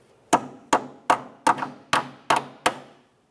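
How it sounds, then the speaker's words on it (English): Seven light, evenly spaced hammer taps seat a rear brake flex hose into its bracket groove on a 2012-2015 Honda Civic. The sharp knocks are close, dry and unaccompanied by speech. "You can lightly tap on this with a hammer."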